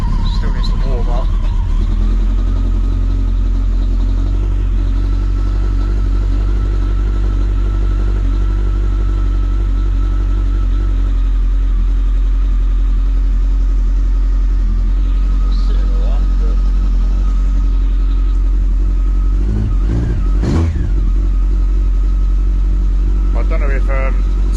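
Yamaha XJR 1300 motorcycle engine idling steadily while warming up, a low continuous rumble with a brief revving burst near the end, with a person talking over it.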